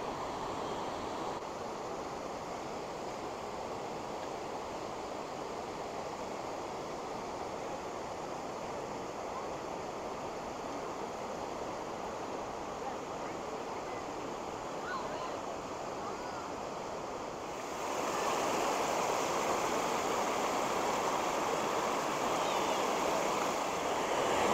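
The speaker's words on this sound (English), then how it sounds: "I just wanted to show you one last time this incredible waterfall, its might" A powerful waterfall pours into Hetch Hetchy Reservoir in Yosemite, a steady, dense roar of rushing water that swells louder partway through and never lets up.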